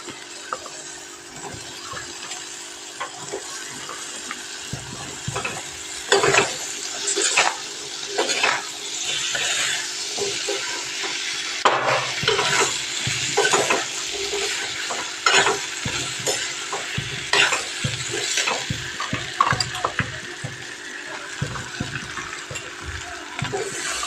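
Vegetables fry in cooked masala while a spoon stirs and scrapes against the pan, a steady close sizzle broken by repeated clanks and scraping strokes, with no talking.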